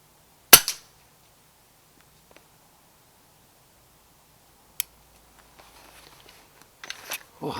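An airgun fires at a rat at night, a single sharp, close snap that dies away fast into near silence, followed by a faint click and soft rustling.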